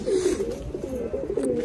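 A male high flyer pigeon gives a low, throaty coo, one sustained rolling call close by, heard alone.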